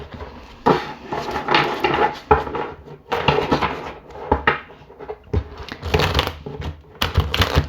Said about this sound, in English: I wanted to shuffle these cards